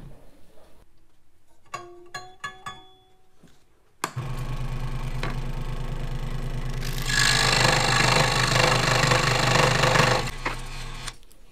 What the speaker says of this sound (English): The first starting cut, I was pushing a little too hard against the saw blade, and the saw blade just wasn't tight enough yet.